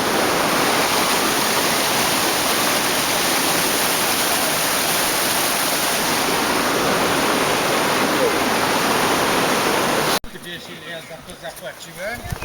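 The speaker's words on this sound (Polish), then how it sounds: "A teraz jesteśmy tu na jazie, na rzece Krępie." Water pours over a weir on the Krępa river beside an old mill, a loud, steady, broadband roar that holds for about ten seconds and then cuts off abruptly, leaving quieter background sound.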